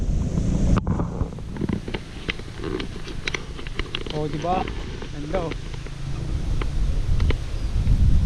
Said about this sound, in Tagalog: Sarap pa ng hangin dito.